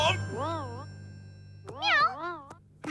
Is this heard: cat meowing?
yes